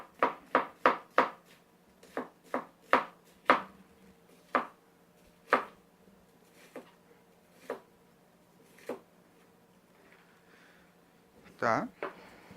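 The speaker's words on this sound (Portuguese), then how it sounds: "Sem a menor dificuldade de cortar a cebola em julienne." A Xituo knife with a stabilized wood handle slicing an onion into very thin julienne strips on a cutting board, giving a run of crisp, distinct chops, fast at first and then slowing to spaced single cuts, close and clear.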